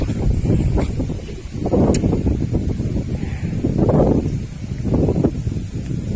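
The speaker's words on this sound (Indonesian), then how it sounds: "ini juga berangin sepoi-sepoi enak lah" A gentle breeze rushes across the microphone in soft swelling gusts at Waduk Bening reservoir in Madiun, with faint rustling in the background and no one speaking.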